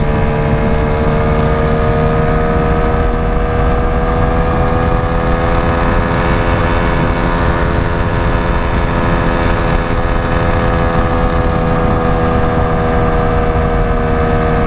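A Honda Ruckus scooter engine drones loudly and continuously with a steady, buzzing hum and layered whine, riding downhill at speed, with wind rush underneath.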